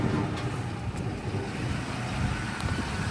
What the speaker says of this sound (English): The engine actually sounds pretty good coming out of the tailpipe.